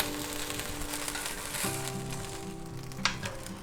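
A salami grilled cheese sandwich with tomato sizzles steadily in a hot pan just after being flipped, a close, continuous frying hiss with a faint clink partway through and background music underneath.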